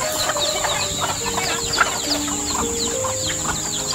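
Small chickens cluck and chatter continuously while being fed in a high mountain forest setting, a busy mix of short calls at moderate volume with no talking.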